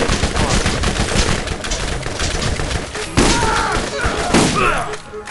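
Rapid automatic gunfire from the video game Borderlands, loud and close, with dense bursts, thuds and layered game effects; faint voices may sit underneath.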